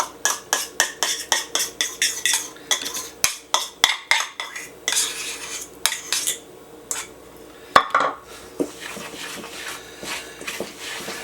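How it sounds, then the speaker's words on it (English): A utensil mixes coconut cream into vegan piña colada scone dough in a bowl with quick rhythmic scraping and clinking strokes, about twenty close, regular beats that slow and soften toward the end. "Now we're going to add in 3/4 of a cup of coconut cream."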